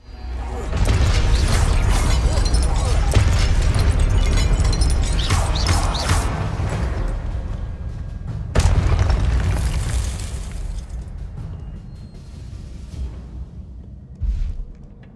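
A spell cast in the Hogwarts Legacy video game, heavy booming magical blasts and crashing impacts with swelling whooshes, loud and layered, followed by a second burst and a fading tail.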